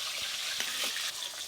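Food sizzles and fries steadily in a pan while a Bengali hilsa fish curry is cooked, with a few soft stirring scrapes over the continuous close hiss.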